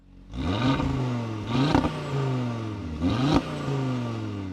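A Cupra Formentor VZ5 facelift with the Audi RS3 five-cylinder engine revs hard while driving, rising and falling in pitch over several surges, loud and close with a rough, throaty tone.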